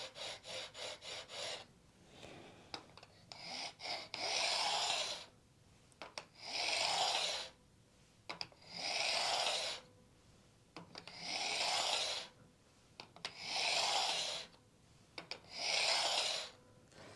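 Metal fret ends on a PRS Swamp Ash Special guitar being dressed with a 3-degree bevel file: quick short rasps at first, then a slow, even rhythm of long rasping strokes, close and alone.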